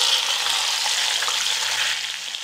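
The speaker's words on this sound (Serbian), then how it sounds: "Ulje se dobro zagrejalo i sada spuštam meso na vrelo ulje." Meat fries in very hot oil in a pot, producing a loud, dense, continuous sizzle up close with no pauses.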